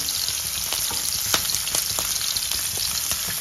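Onions and green chillies fry in oil in a pan with a steady, dense sizzle, close and loud, broken by small crackles and pops, with no talking over it.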